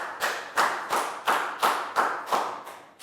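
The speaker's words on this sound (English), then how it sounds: "Big round of applause for Dan." Young pupils in a primary-school maths lesson give a classmate a round of applause: steady, rhythmic bursts of clapping, close and fairly loud, with no talk over it.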